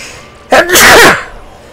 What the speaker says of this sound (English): I can feel a sneeze coming on.